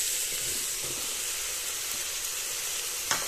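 Tomatoes, soybean chunks and chana dal fry in a pan, giving a steady, close sizzling hiss with faint stirring scrapes and one brief sharper clatter near the end.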